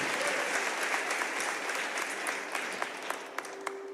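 Audience applause at a sermon-style talk, a steady wash of many hands clapping that thins out near the end into a few distinct individual claps.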